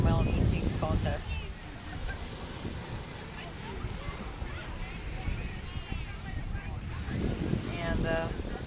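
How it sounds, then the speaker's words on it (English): Cold wind at Petoskey Beach, Michigan, buffets the microphone in a steady, loud roar with a hint of surf. Voices are faintly audible underneath. "And the weather is cold, the wind is cold."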